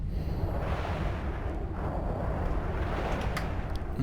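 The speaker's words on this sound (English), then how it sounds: "You can see the battleship shooting them." An EVE Online battleship fires its weapons in a large space fight: a continuous deep rumble with scattered thudding impacts and a few crisp cracks near the end, moderately quiet and steady throughout.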